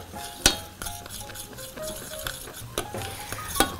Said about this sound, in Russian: И, естественно, помешиваю.